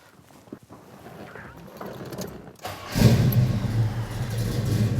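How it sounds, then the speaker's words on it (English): A 1971 Chevelle SS 454 HO convertible with a carbureted big-block V8 and aluminum intake sits quiet for a few seconds with faint handling noises, then fires up and settles into a loud, steady, deep rumble. "Now let's fire it up."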